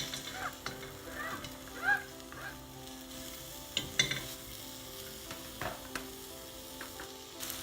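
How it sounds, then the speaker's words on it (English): Diced onion frying in melted butter for a keto lamb curry, a soft steady sizzle with scattered clinks and scrapes of stirring, fairly quiet throughout. "We have a whole diced onion that we're going to fry up."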